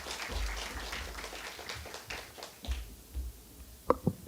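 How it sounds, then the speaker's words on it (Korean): Audience at a Korean village symposium ceremony gives applause for a council member, a soft, fairly distant patter of clapping that thins out, ending with a couple of sharp knocks. "큰 박수 부탁드립니다."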